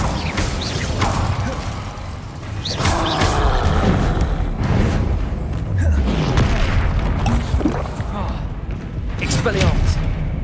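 Incendio fire spell cast in a Hogwarts video game, heavy whooshing booms and crackling bursts recurring over several seconds amid combat clatter, loud and close.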